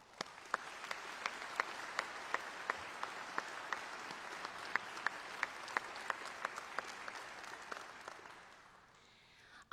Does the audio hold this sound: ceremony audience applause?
yes